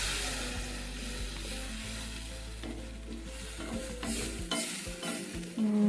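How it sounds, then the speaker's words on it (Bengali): Tomato masala with ground cumin and a splash of water sizzles and fries in a pan for paneer curry while a spoon stirs it, scraping and clattering over the steady, close hiss of hot oil. "আর এখন সামান্য জল মশলাটা কষাতে হবে ভালো করে"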